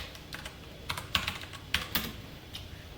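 A computer keyboard clatters with a short run of light, irregular keystrokes during a C programming lesson, close and clear with no voices over it.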